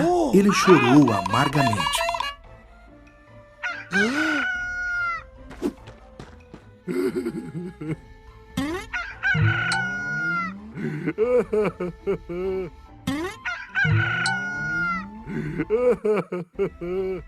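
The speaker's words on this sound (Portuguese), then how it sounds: "Quando ouviu o galo cantar" A cartoon rooster crows loudly in a children's Catholic animated Bible story, a wavering, drawn-out call at the start followed by a narrator speaking.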